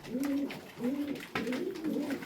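Tumbler pigeons, a mixed flock of males and females, coo close by in a soft repeated pattern, three or four rolling low calls in steady rhythm with faint background noise.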